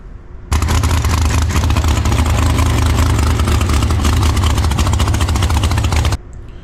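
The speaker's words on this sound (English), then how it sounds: "Car sounds phenomenal." Race car engine running, a loud sustained roar that starts abruptly, holds steady with a buzzing, pulsing tone for several seconds, then cuts off.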